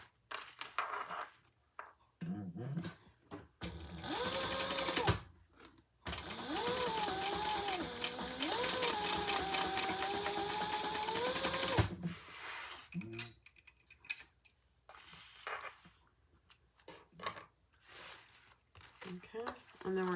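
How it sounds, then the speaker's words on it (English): Sewing machine top stitching leather, its motor running in a few steady bursts of varying length with pauses between, close and moderately loud, with a person talking in between. "we're going to top stitch here"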